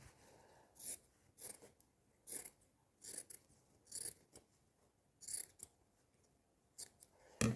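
Scissors snip through paper, cutting out a rough circle for an Easter table decoration: seven or eight separate crisp cutting bursts spaced about half a second to a second apart, close and clear against near silence.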